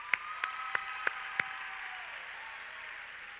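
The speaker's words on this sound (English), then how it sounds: "yeah, you can clap for him" Faint, sparse clapping at a large Steubenville youth gathering, honoring a Navy veteran: five crisp, evenly spaced claps stand out over a distant, hissing crowd murmur before they fade into steady background noise.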